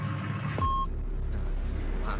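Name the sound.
noisy truck passing, reversing beeps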